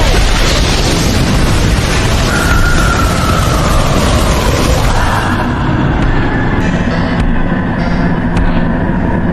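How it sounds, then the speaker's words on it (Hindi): Fireball Jutsu explosion from a Naruto Shippuden anime fight scene, a loud continuous roaring burst of fire filling the whole clip with a sustained rumble that thins out toward the end. "Fire style fireball jutsu."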